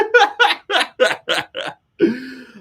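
A person burps in a rapid series of six short, close burps, then pauses before a longer, drawn-out one.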